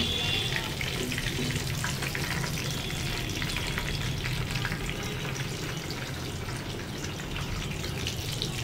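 Chicken barbecue fries in hot oil with a dense, steady sizzle and crackle that holds evenly throughout, close and loud with no talking.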